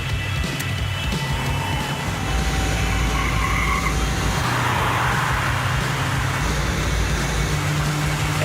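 A car drives in a Max Payne 3 cutscene, with a constant loud engine and road rumble that stays steady throughout and no speech.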